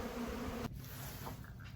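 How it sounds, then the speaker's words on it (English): Buzzing of bees from a colony rescued out of a condemned building, collected by the bucketful, a steady dense insect drone that drops abruptly partway through and continues more softly with scattered nearby buzzes. "I've just collected another bucket full of bees from this 3rd colony."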